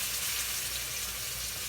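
Filet mignon steaks searing in a very hot pan, a steady close sizzle and crackle of fat that holds evenly throughout.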